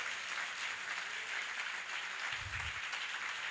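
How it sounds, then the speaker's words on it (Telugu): A church congregation at a Sunday service claps steadily, a faint, distant wash of applause that continues evenly for a few seconds. "అది చప్పట్లు కొట్టండి గట్టిగా"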